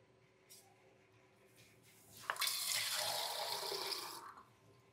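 Water poured into a pan of chicken fry with ginger-garlic paste, a steady splashing pour starting abruptly midway and running about two seconds before stopping, close and fairly loud after a quiet start.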